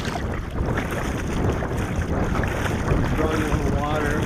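Canoe paddle strokes pulling through open water during a college canoe coaching session, soft repeated sloshes and splashes beneath steady wind noise on the microphone, with a voice talking faintly.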